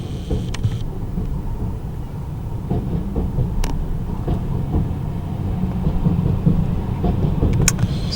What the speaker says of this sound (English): You can hear a train going over us.